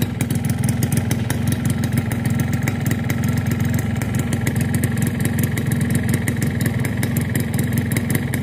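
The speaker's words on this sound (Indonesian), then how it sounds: "Dan untuk suara mesinnya ya, karena posisi setelan basah ya enak-enak aja sih." A cold two-stroke motorcycle engine with wet tuning idles up close, a loud, steady, rapid buzzing putter that holds an even rhythm without letting up.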